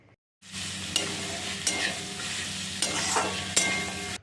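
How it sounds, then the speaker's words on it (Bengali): Chopped onion fries in hot oil, a continuous close sizzle with a few distinct scrapes and knocks as it is stirred and turned in the pan. "এখানে নাড়াচাড়া করে পেঁয়াজটা হালকা ভেজে নিতে হবে"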